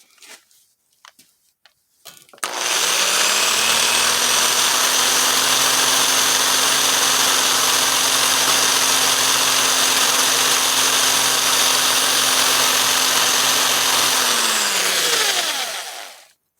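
A die grinder ports the exhaust ports of an LS cylinder head, a loud, steady high-pitched whine running for about thirteen seconds after a few quiet clicks, then spinning down at the end.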